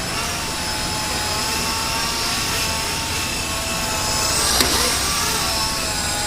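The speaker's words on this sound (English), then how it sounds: "I'm flying it really slow because I'm inside in a small room." A small E-Flite Blade 120 SR RC helicopter flies slowly indoors in a small room, its steady high motor whine and rotor buzz holding at close range throughout with little change.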